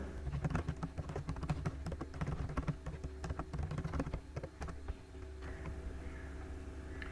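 Quiet keyboard typing while an email and password are entered, with irregular bursts of soft clicking keystrokes over a low room hum and no speech.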